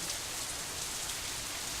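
Steady rain falls in the visual novel Katawa Shoujo, a soft, even hiss of drops with no other sounds, faint and continuous throughout.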